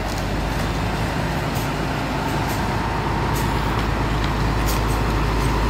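A Sugeng Rahayu Starla bus, unit 7126, idles before departure with a steady low engine rumble, plus scattered faint clicks and light traffic noise around it, and no clear speech.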